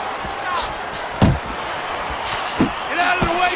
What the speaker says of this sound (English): Huge left hand from Hagler.